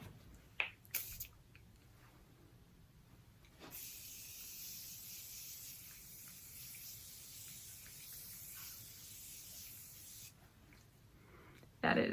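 A Tarte Maracuja Miracle Mist setting spray lets out a long, soft, fine hiss of mist lasting several seconds, close but quiet, with a few brief clicks and handling noises around it.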